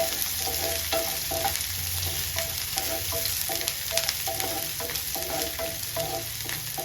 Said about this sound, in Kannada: ಚೆನ್ನಾಗಿ ಈರುಳ್ಳಿ ಫ್ರೈ ಆಗಿದೆ